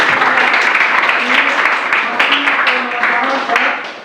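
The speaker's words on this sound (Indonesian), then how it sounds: "Kita aplaus dulu untuk" A class of students breaks into steady, close applause, a dense wash of clapping that holds for about four seconds and fades slightly at the end, with a voice speaking over it.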